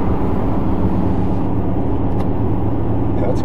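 Steady low drone of a supercharged Toyota Hilux exhaust, aftermarket mufflers fitted, while cruising on the road; the loud, even rumble carries throughout with no talk.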